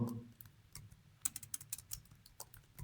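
Typing on a computer keyboard produces quick, irregular bursts of crisp key clicks and taps, close up and fairly quiet, with a brief pause before a faster flurry of strokes.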